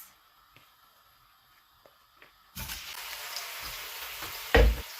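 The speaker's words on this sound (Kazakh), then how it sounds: "Пиязды салып қуырамыз." Near silence, then about 100 grams of oil bursts into a loud, steady sizzle as onions go in about halfway through, with a single dull knock near the end.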